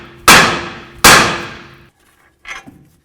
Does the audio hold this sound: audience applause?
no